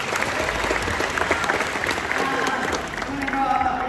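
An audience of schoolchildren and adults claps steadily throughout at a youth motivational tour event, a dense, continuous round of applause from a room full of people.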